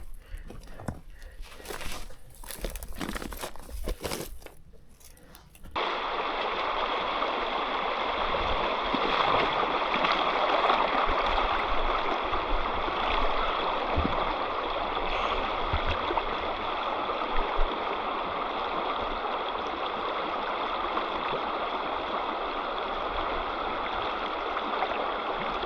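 A river in Copper Canyon rushes steadily at the bottom of the gorge, a dense, continuous broadband wash of flowing water that holds a constant level. It follows several seconds of brief handling noise at the start.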